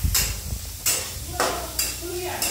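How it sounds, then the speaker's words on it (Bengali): Sliced onion, garlic and chilli frying in hot oil for a shrimp mash, with a steady sizzle and a few sharp scraping strokes of a spatula against the pan at regular intervals. "এবারে সেই তেলের মধ্যে আমি এই যে আগে থেকে পেঁয়াজ, রসুন এবং লঙ্কাটা কেটে রেখেছিলাম সেটাকে আমি ভাজতে দেবো"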